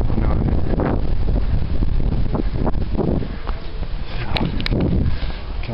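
Gusty wind buffets the microphone in loud, rumbling bursts on a cold hilltop by an ancient temple of Athena in Greece, with faint rustling and a couple of sharp clicks near the end.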